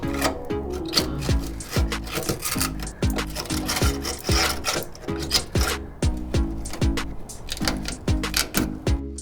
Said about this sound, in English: I don't want to cut too deep because I'm trying not to cut through the front of the driver's door skin itself.